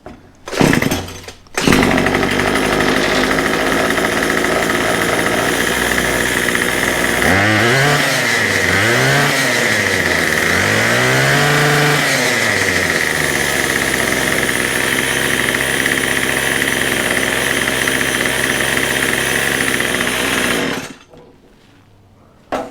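A repaired weed eater's small two-stroke engine runs loud and close after a couple of quick pulls, holding a steady buzzing idle, revving up and down several times mid-run, then cutting off abruptly.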